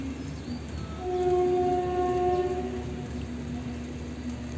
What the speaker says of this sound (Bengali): তোমরা সবাই ট্রেনের আওয়াজ পাও না দেখো আমাদের বাড়ি থেকে ট্রেন কতটা কাছে